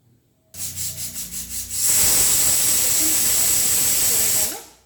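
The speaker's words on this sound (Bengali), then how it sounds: "আমি প্রেসার কুকারে বসিয়ে দিলাম, একটা সিটি দেব, তাহলে কচুরমুখীটা সেদ্ধ হোক।" A pressure cooker boiling taro (kochur mukhi) sends out a loud, close jet of hissing steam: a few quick pulsing puffs give way to a sustained roaring whistle lasting several seconds before it cuts off.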